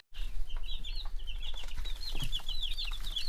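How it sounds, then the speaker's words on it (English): Young chickens being raised in a small backyard setup cluck and chirp in quick, scattered bursts, fairly close and continuous, over a low steady background hum with no talking. "They're pretty cool little chickens."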